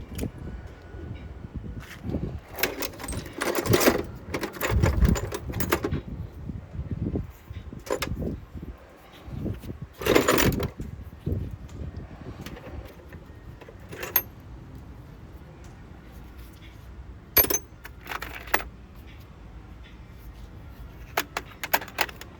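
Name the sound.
rummaging through a pile of mechanic's tools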